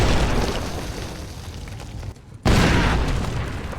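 A loud, rumbling landmine explosion roars, briefly fades to near quiet, then another powerful blast bursts in and keeps rumbling.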